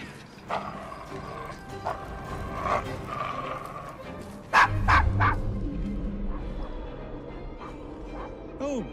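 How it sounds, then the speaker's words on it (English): A dog in the Assassin's Creed Syndicate video game gives scattered barks and yips over a murmur of game ambience, with a loud thud midway, as characters talk. "Your dog quite all right?"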